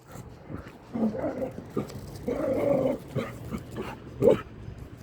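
A dog growls and whimpers in uneven bursts close by, with a few louder yelps among the rumbling sounds and some faint background noise.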